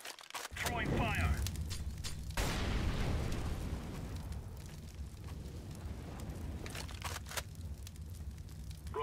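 An incendiary grenade bursts and flares loudly in CS:GO on the de_inferno map, followed by a second heavy whoosh and a sustained crackling roar that fades slowly, with faint voices underneath.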